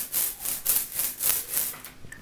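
A brayer rolling back and forth over block printing ink mixed from white, black and blue, giving a rhythmic, sticky, tacky hiss in about seven even close strokes.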